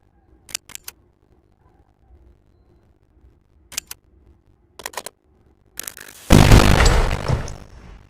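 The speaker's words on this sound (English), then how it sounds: "I heard an explosion." An ignited explosive charge blasts through a bedroom wall: after a few scattered faint clicks, a single loud, close, broadband roar erupts and rumbles for about two seconds before ending.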